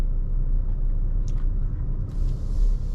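Low, steady engine rumble and road noise from a Chevrolet S10 Z71 pickup truck driving through Recife, heard from inside the cab, constant and moderate with no talk.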